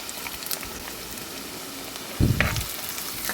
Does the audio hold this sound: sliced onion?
yes